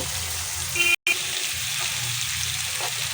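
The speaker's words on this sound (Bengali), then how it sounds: "ডিম আলুগুলো ভালো করে একটু কষিয়ে নিব।" Eggs and potatoes fry with peas in a pan, giving a steady, close, loud sizzle that runs throughout, with a brief dropout near one second.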